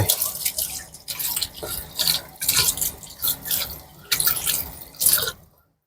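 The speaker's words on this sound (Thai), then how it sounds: "ล้างวุนเส้นก่อนนะครับ ล้างให้สะอาด" Glass noodles rinsed by hand under a running kitchen tap, with splashing and sloshing water in repeated swells that stop abruptly at the end, close and fairly loud, without speech.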